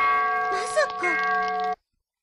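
Bright, sustained bell tones ring out in the soundtrack of the PSP game Digimon Adventure, overlaid by short vocal sounds before cutting off abruptly.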